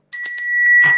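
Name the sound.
bell sound effect sent by a livestream viewer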